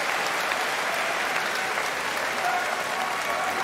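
Sustained applause from a judo championship crowd during a long golden-score contest, a steady dense wash of clapping at moderate distance with no voices over it.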